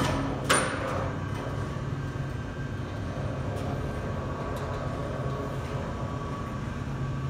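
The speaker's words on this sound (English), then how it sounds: "Go ahead and run the trolley more to the left." An overhead crane trolley with a single-speed drive travels along its rail, giving a steady mechanical rumble and hum with a sharp clank near the start, loud and continuous throughout.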